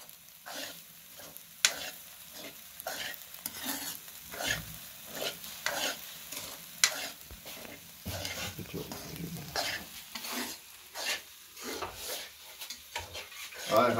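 Sugar is stirred into hot desi ghee in a pan, producing repeated scraping strokes in an uneven rhythm over a soft sizzle, close and moderately loud with no voices.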